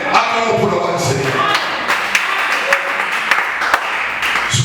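Applause from a church congregation fills the whole stretch as a steady, dense wash of clapping with a few sharper thumps. Voices run underneath throughout.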